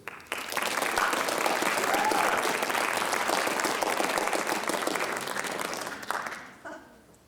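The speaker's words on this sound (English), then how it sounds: "Give a round of applause for David Joseph." A roomful of listeners applauding a student poet at a school writers expo, a thick, steady wash of clapping that starts abruptly and holds for about six seconds before tailing away.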